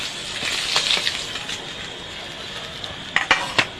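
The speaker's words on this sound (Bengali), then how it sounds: "মাছগুলো উল্টে পাল্টে ভেজে নেব।" Fish frying in hot oil in a wok gives a soft, steady sizzle, with a few sharp clinks and scrapes of a utensil turning the pieces.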